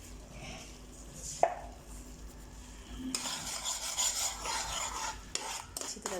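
Egg halwa mixture with turmeric and cardamom powder being stirred in a pan as it starts to thicken, a steady scraping and rubbing with a sharper clack near the start and busier scraping in the later half.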